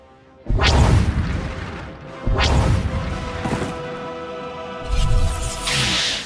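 Explosions in Star Wars: The Old Republic as the Deathmark laser is destroyed, three heavy booming crashes with rumbling low-end decay, loud and close, each followed by a sustained roaring tail.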